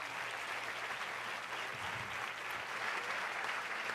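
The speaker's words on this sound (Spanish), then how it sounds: "Si ese es el aplauso, déselo mejor." Congregation applauding during a church sermon, a steady dense clapping wash that is fairly faint and distant, continuous throughout with no talk over it.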